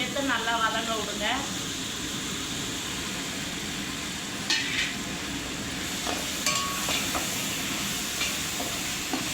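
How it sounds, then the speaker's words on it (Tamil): Masala with mint and coriander sautéing in a pan for homemade chicken biryani, a steady sizzle throughout with occasional scraping stirs and clinks of a utensil. "புதினா கொத்தமல்லி சேர்த்து நல்லா வதங்க விடுங்க."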